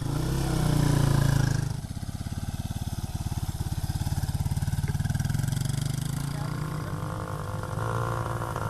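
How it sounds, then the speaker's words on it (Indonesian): A motorcycle engine runs steadily during riding lessons on a forest road in Cameroon, a continuous buzzing drone with a brief louder rev at the start, close by and fairly loud throughout. "Pria-pria ini diajari cara mengemudi motor."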